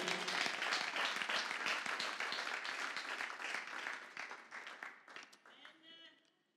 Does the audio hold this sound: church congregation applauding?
yes